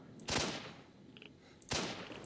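Two sharp gunshots from a player's weapon in S.T.A.L.K.E.R.: Shadow of Chernobyl, fired about a second and a half apart, each a loud broadband crack with a short decaying tail over quiet game ambience.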